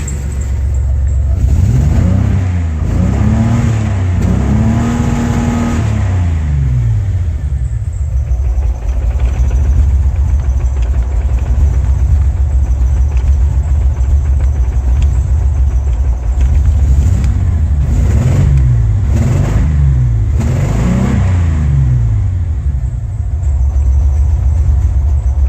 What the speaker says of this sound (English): Can't really tell though at the idle.